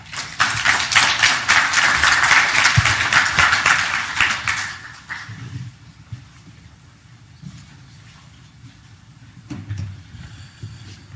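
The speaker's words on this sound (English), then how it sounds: "Another big round of applause for Patricia and Dionne." Loud applause from a crowd for about five seconds, then fading out, leaving quiet room noise with a few faint scattered claps.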